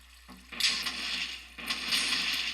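Flowing water in Minecraft makes a steady hissing, splashing rush that swells in two bursts, fairly close and with no voices.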